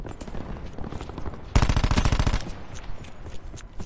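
Rapid automatic gunfire from a custom weapon in Call of Duty Black Ops 4, a loud, fast burst of shots lasting under a second amid a busy game soundscape.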